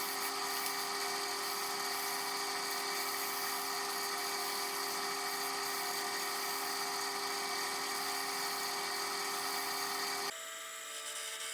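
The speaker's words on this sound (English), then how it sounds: "Switching back to the carbide detailer just to give me a little more definition into the separation of the body." A carbide detailer cuts into a spinning wooden snowman on a lathe, defining the separation of the body, a steady high-pitched whine with strong tonal bands that holds for about ten seconds, then cuts off abruptly to a quieter hum.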